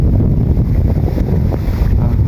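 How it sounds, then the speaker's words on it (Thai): Steady strong wind roars across the microphone in open rice fields under overcast, rainy skies, a continuous low rumbling buffet with no voices. "มีลมเหี่ยง"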